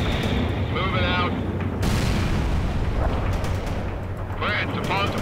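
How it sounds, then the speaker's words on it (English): Heavy gunfire and booming artillery fill a World in Conflict battle, a dense continuous roar of explosions with a sharp blast midway, while voiced unit radio chatter breaks through over the combat. "They're shooting at us!"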